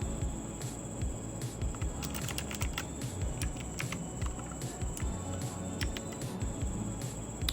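Rapid keystrokes on a Portronics Hydra 10 wireless RGB mechanical keyboard, a steady stream of close, crisp clicks and clacks over a low background hum, with no voices.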